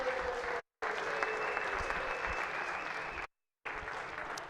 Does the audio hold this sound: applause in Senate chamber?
yes